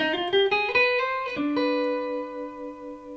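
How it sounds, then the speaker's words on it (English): A harmonic minor scale with its raised seventh, a few quick plucked notes stepping upward and then a final held tone ringing on and slowly fading, with no talking. "The harmonic minor has a raised 7th, and it sounds like this."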